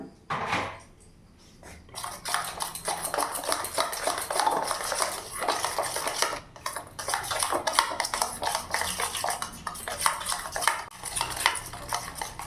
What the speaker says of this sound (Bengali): ভালো করে নাড়িয়ে নিলাম।